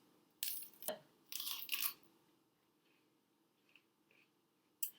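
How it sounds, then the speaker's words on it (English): Celery stalk ends snapped off by hand give several sharp crisp cracks and tearing crunches in quick bursts. Faint ticks and small clicks follow in a quiet room. "you can break them like this if you're really not strong enough"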